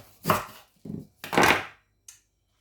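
A knife cuts a piece of ginger in about four short, separate strokes, each a crisp close chop followed by a quiet pause.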